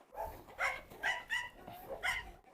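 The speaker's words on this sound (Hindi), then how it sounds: "तुर्की का नहीं बल्कि दुनिया का पहला और इकलौता डोबरमन चरवाहा कुत्ता" A Doberman working as a herding dog barks while chasing goats, giving a quick string of five or six sharp yips and barks, fairly close and alone.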